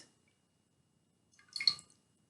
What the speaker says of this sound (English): I'm going to drop this sponge into the water.